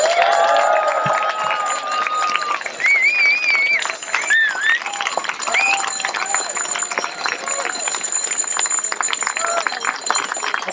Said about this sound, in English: so please give a huge cheer to